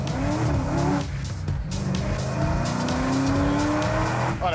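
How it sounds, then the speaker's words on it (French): A supercharged 520 hp car accelerates hard, its engine note climbing loudly and close through several rising sweeps, with a brief dip in between, and no talk over it. "Oh, l'accélération est vraiment impressionnante. Le bruit est démentiel."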